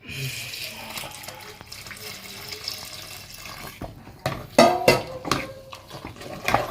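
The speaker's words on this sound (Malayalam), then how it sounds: "നമുക്കിനി പാലൊഴിച്ച് കൊടുക്കാം" Milk is poured into cooked payasam in a pot, giving a soft liquid pour followed by several sharp clinks and knocks of utensils near the end.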